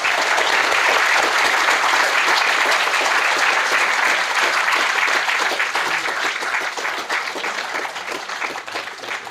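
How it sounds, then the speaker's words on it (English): Loud, dense applause from a theatre audience for the performers, a full sustained burst of clapping that stays strong for several seconds and then eases off toward the end. "let's give these guys a big round of applause."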